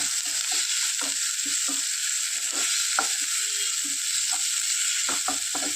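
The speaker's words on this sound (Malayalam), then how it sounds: "മഞ്ഞൾപ്പൊടി ചേർത്ത് കൊടുക്കാം നന്നായിട്ടൊന്ന് ഇതിൻ്റെയൊക്കെ പച്ചമണം പോകോളം നന്നായിട്ടൊന്ന് ഇളക്കി ഒഴിപ്പിക്കുക" Onions and tomato with turmeric fry in a pan for a Kerala-style fish roast, a constant bright sizzle broken by repeated scraping knocks from a stirring spoon.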